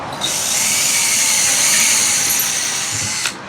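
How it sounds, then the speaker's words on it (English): A power drill pre-drills holes in the side of a wooden workbench, one continuous high whine of about three seconds that starts and stops abruptly, close and loud with no talking. "I'm just going to go ahead and get these pre-drilled"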